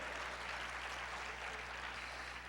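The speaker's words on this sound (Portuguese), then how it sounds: "Pode dar uma salva de palmas ao Senhor mais alto." A church congregation applauds during a worship service, a steady, dense wash of clapping that holds evenly for the whole stretch, fairly distant and filling the room, with no talking over it.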